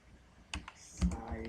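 A few quiet keystrokes on a computer keyboard tap out text, with an isolated click followed by a short run of soft clacks.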